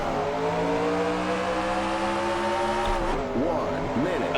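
Race cars in the NR2003 NASCAR racing game restart on the green flag at Charlotte, a loud sustained engine drone with steady harmonic whine that shifts into wavering, revving pitch sweeps as the field accelerates close by.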